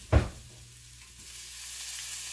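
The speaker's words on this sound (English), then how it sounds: "Now I'm going to add about 1 clove of garlic to the onions" Garlic and onions sizzling in a pan with beef broth nearby: a brief knock of garlic hitting the pan, then a steady, moderately loud sizzle and hiss alone.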